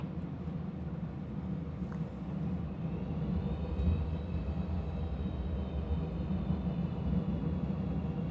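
SpiceJet airliner on runway 04 departing from Colombo for Phuket, a steady low engine roar with a faint whine, heard from inside the cabin, continuous and even.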